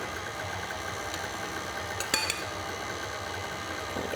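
Electric mixer running on its lowest speed while beating cupcake batter, a steady low motor hum throughout with a brief clink of a utensil near the middle.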